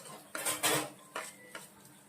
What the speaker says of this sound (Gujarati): એની અંદર આપણે લસણ એડ કરીશું.